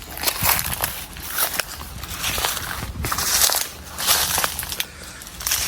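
Repeated heavy pounding and crushing of jackfruit salad with tamarind in a mortar, rhythmic thuds mixed with crackly mashing, close and loud, with no voices.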